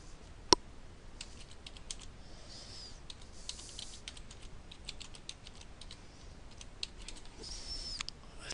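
Keys clatter steadily on a computer keyboard as an article title is typed, quick irregular clicks at low level with one sharp louder tap near the start and no voices.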